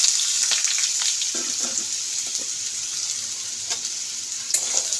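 Potatoes fry in a pan with whole cumin and dried chili, a steady bright sizzle broken by scraping stirs, close and with no talk.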